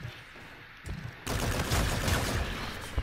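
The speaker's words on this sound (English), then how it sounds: "Lord, this gun is loud." Gunfire from a gun in the video game Call of Duty: Infinite Warfare: a few sharp shots give way to a loud, sustained burst of rapid automatic fire that runs to the end.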